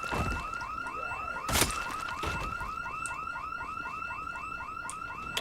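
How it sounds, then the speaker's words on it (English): An alarm in the video game Project Zomboid, set off by opening a door: a rapid, repeating electronic warble that sweeps up and down in steady cycles like a car alarm, sounding loud and unbroken over a few sharp bursts of noise. "I got an alarm by walking in an open door?"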